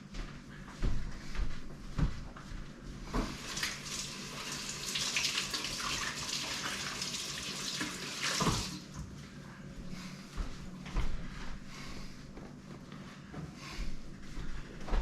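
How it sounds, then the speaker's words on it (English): Tap water runs steadily into a kitchen sink while hands are rinsed under it during pork bratwurst sausage making. The close, hissing flow has a few splashes and soft knocks. "Now I rinsed my hands and I'm going to plug this back in."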